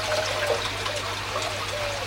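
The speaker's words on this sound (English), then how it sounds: "Now this fills up, if I remember rightly, pretty quick." An aquarium protein skimmer fills with water, a steady, close trickling and gurgling flow like a running stream that continues evenly throughout with no voices.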